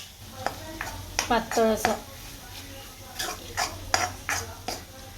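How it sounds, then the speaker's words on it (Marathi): Jowar (sorghum) flour being dry-roasted in a pan, a spoon scraping and stirring in bursts with soft clinks of metal, while someone talks over the scraping throughout. "ज्वारीचं पीठ आहे ना थोडं भाजून घेते"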